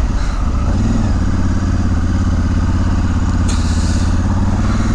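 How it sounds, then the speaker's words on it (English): Steady, loud wind buffeting roars continuously over the rumble of a Honda Africa Twin motorcycle engine while riding, a dense rushing noise with no speech. "Too much wind, dude."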